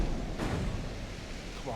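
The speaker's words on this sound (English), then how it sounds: "that's the 10-inchers now firing" 10-inch naval guns firing in the Ultimate Admiral Dreadnoughts naval battle game, a deep booming roar under continuous low rumble, heavy and sustained.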